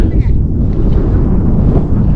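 Strong wind buffets the microphone atop a 300-foot hilltop fort, a loud, continuous roaring gust with no speech over it.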